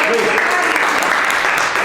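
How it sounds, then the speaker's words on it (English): Dense, steady applause from a crowd at a ceremony honoring a women's wrestling champion fills the whole moment, loud and close, with cheering voices mixed in. "another round of applause for our champion"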